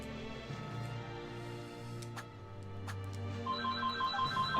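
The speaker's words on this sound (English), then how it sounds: "So I guess Wafu's phone ringing is going to be kind of be the theme of our LPs from now on." A phone rings with a repeating electronic ringtone that grows more prominent toward the end, over a steady tonal background, with no one speaking.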